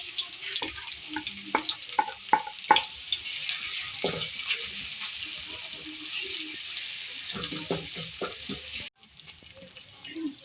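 Chopped onions and green chillies sizzle and fry in hot oil in a pan for an Aloo Bhaji, with intermittent stirring scrapes and knocks over a steady crackle that cuts off near the end.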